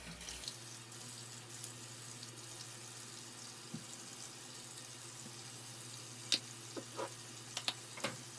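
Tap water runs steadily into a bathroom sink during face washing, a constant moderate hiss with a few small splashes and clinks near the end, no talking.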